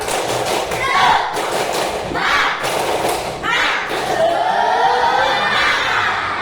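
A primary school class in Indonesia does the tepuk semangat, a patterned group clap, with loud rhythmic claps in bursts and children's voices shouting along, close and lively.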